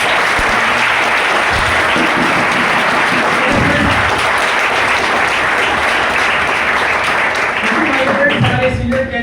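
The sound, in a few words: audience applause at a training session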